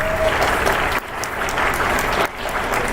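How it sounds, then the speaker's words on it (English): Applause from a school band concert audience, a dense burst of crowd clapping that stays loud and steady through the short stretch with a couple of quick dips. "Please give him a round of applause."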